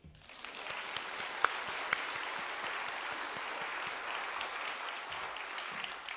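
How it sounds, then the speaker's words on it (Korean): Applause from a church congregation at the opening worship service of the Seoul Annual Conference: steady, dense clapping from a sizeable crowd that fills the whole stretch, with a couple of sharper individual claps standing out early on. "박수."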